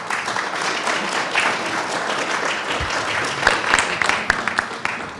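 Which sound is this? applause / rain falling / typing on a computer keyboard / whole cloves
applause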